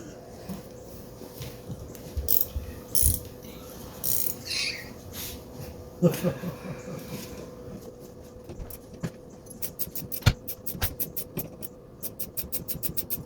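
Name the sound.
ratcheting box end wrench working on Mustang suspension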